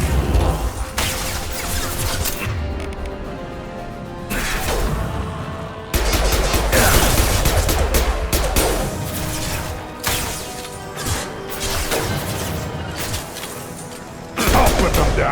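Sustained gunfire fills a Mass Effect 2 firefight, with dense repeated bursts of shots and impacts in waves, briefly easing before erupting again, while combat voices call out over the noise.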